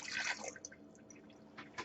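Water poured to dissolve silver nitrate and sodium nitrite, a faint brief splash and trickle at the start followed by soft drips.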